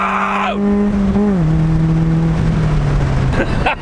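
A cheap, rough-running Honda Civic engine revs hard, its pitch climbing then dropping as gears shift, running loud and close throughout.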